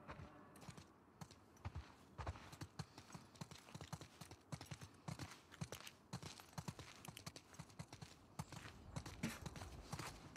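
Horse hooves clip-clop in The Last of Us Part II, several riders' steady, uneven footfalls close by on the ground, soft and continuous with a faint ambient bed behind.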